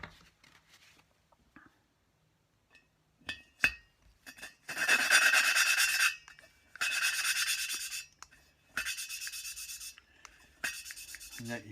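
Valve being lapped into its cylinder head seat on a BSA Fury SS, a quiet gritty rubbing heard in four separate strokes with brief pauses, after a few light clicks and taps.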